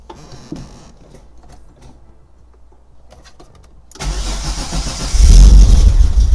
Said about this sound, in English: Now let's press our button. There's our fuel pump.